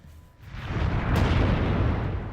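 Explosion in the video game Alan Wake: a deep, rumbling blast swells in after a brief lull and holds as a dense, loud roar through to the end.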